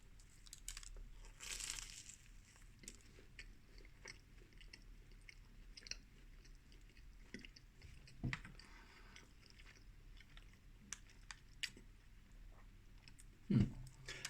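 Someone bites into and chews a Greggs Festive Bake pastry, with faint, close crunches and soft crinkling of a paper wrapper, plus a few sharper bites scattered through otherwise quiet chewing.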